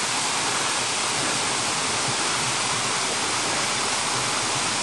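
Beaver Meadow Falls, a mountain waterfall along a hiking trail, gives a steady, loud, broadband roar of rushing water with no break or talk.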